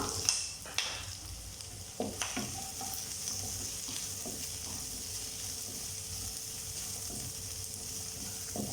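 Cauliflower manchurian and cubed capsicum stir-fried on a high flame give a quiet, steady sizzle punctuated by several sharp spatula knocks and scrapes against the pan, spaced irregularly across the clip.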